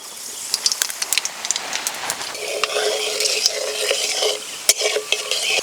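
Dried red chillies and nigella seeds hit hot tempering oil, giving close, sharp pops and crackles that build into a dense, continuous sizzle, with no speech.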